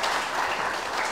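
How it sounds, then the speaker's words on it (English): An audience at a UX and data talk on designing for machine learning data labeling applauds steadily, a dense wash of clapping held at a moderate level from start to finish. "Round of applause, Elaine."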